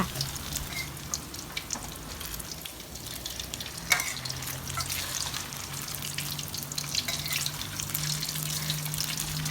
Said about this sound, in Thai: แล้วน้ำมันก็เริ่มร้อนค่ะ เราก็เอาลาบลงไปทอด